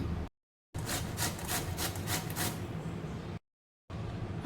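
Bottle gourd is grated by hand, making a close rhythmic rasping with quick repeated strokes, cut by two brief silent gaps.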